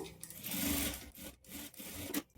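A sewing machine top-stitches folded blouse fabric in a steady close whirr, with brief stops and restarts between runs of stitching.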